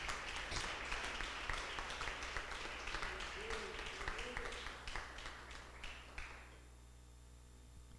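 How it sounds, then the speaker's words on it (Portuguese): A church congregation applauds after a closing prayer, with dense clapping that stays steady and then fades out toward the end, leaving low room hum. "Se você puder, aplauda ao Senhor no seu lugar."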